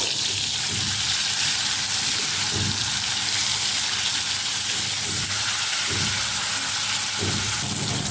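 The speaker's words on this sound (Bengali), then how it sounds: "তেলটা গরম হয়ে গেছে এরপরে দিয়ে দেবো মাছ মাছটাকে আমি ভেজে নেবো" Katla fish frying in hot oil, a steady loud sizzle and crackle that runs unbroken with no voices, with a few soft knocks of the pan underneath.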